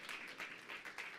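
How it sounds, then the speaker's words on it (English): Faint, distant audience applause at a Silicon Alley 140th anniversary party, a steady patter of many hands clapping at low volume with no talk over it. "another round of applause from Melanie from Benefit Kitchen"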